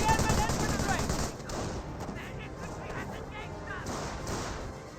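Rapid bursts of machine gun fire in a World War II company-level strategy game, dense crackling volleys loudest in the opening second, then continuing steadily underneath, with no voices.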